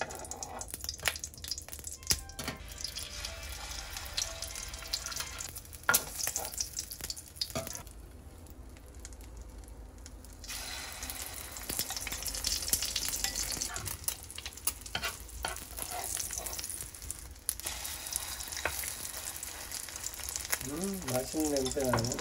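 Egg-dipped Korean meat patties (dongeurangttaeng) frying in oil in a pan, a steady crackling sizzle with scraping and stirring sounds throughout, fairly close, with no one speaking.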